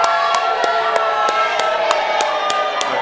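A single person clapping at a wrestling show's mixed tag team tournament, about ten evenly spaced sharp claps over a steady murmuring crowd background, with no speech.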